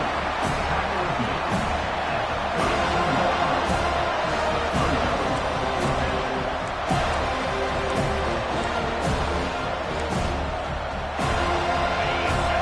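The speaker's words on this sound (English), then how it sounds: "This crowd bringing serious noise on this huge 4th down play" A large college football stadium crowd roars loudly and continuously during a fourth-down play between Miami and Florida State, a dense wall of cheering and shouting with scattered sharp bangs and claps throughout.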